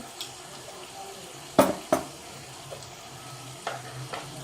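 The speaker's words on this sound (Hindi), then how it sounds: "और मज़ीद 5 से 6 मिनट के लिए भूनेंगे। मसाले फ्राई हो गए हैं।" Spices for biryani fry in a pot with a low, steady sizzle close by, broken by a few sharp scraping stirs of a spoon against the pot.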